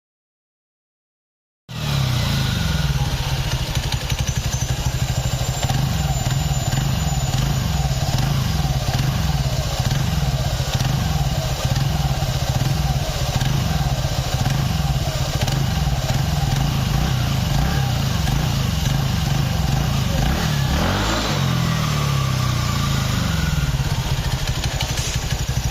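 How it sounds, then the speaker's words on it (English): A motorcycle engine with a worn clutch whose housing rubs against the clutch shoe runs steadily close by, giving a continuous loud judder and rattling clatter under its idle drone throughout, with no talk. "Juddering noise due to contact of clutch housing to clutch shoe."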